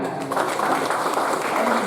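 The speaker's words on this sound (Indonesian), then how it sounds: "Tepuk tangan." Applause from a crowd at an Al-Khairiyah inauguration ceremony for nine autonomous bodies, a steady dense wash of clapping at even loudness throughout.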